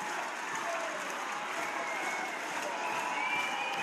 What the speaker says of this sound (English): getting a good reception from the England fans behind that goal. It's the cheer you're hearing.